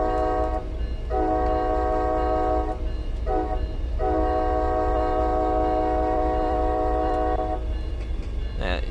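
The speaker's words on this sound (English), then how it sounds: "There's a freight train up there." Freight train in Train Sim World 5 on the MBTA commuter line from Boston to Worcester, sounding repeated long horn blasts over a steady rumbling engine and track drone, with one short toot between the longer calls.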